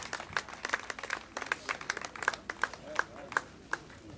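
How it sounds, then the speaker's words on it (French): A trail race awards ceremony audience claps in a quick, scattered patter of individual hands, fairly faint and distant, with a voice talking faintly underneath. "je voudrais que vous les applaudissiez bien fort"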